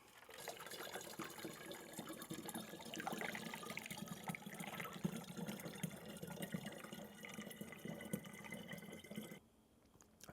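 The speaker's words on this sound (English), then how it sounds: "I've got a little sieve, and I'm going to strain out the bits of coffee and cocoa." Liquid pours steadily through a small sieve to strain out bits of coffee and cocoa, a soft continuous trickle and splash that stops near the end.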